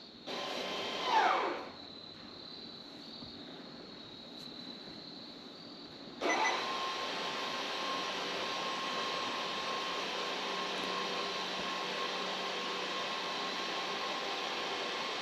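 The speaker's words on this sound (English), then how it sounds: "So you can hear the calipers right now going absolutely crazy." A short mechanical whir, then a steady electric motor hum kicks in and drones on evenly, close and fairly quiet: Hyundai or Kia rear electronic parking brake calipers retracting.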